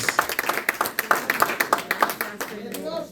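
A church congregation claps in a steady, rhythmic beat, with voices underneath, before the clapping fades out near the end.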